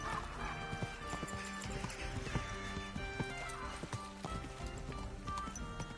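Hooves clip-clop steadily while a horse whinnies in Kingdom Come Deliverance 2, set against a dense layer of background music and ambient game sound.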